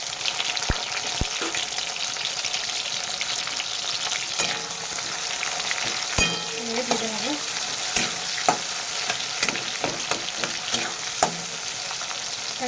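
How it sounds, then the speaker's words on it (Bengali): Onion, chilli and tomato fry in oil in a pan for a chicken dish, giving a steady crackling sizzle with scattered pops and stirring knocks. "হালকা হালকা ভাজা হয়েছে পেঁয়াজ লঙ্কা টমেটোটা"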